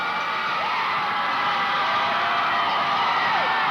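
Granite City supporters cheer at a rainy 1990 high school boys soccer championship game, a dense sustained roar of whoops and yells from a large crowd at a steady loud level throughout.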